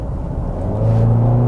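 A 2023 Cadillac XT5 with a turbocharged four-cylinder engine accelerates in a short burst. A low engine drone builds, then steadies into a firmer, rising hum inside the cabin.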